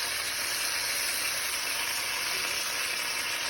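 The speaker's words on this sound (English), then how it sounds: "It's going to sear the meat." Rump roast searing in a pan over a high flame, giving a steady, even sizzle and hiss that stays constant and fairly loud throughout, with no voices over it.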